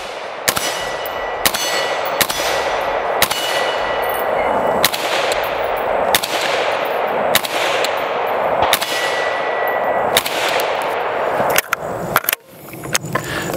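SCAR rifle shots with ACOG at a range, about a dozen evenly spaced sharp cracks, each followed by a ringing metallic clang from steel targets.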